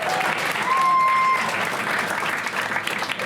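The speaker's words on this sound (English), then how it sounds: "Give him another round of applause." A comedy club crowd claps for a comedian in a full, dense burst of applause, with a short whistle near the start and a slight fade toward the end.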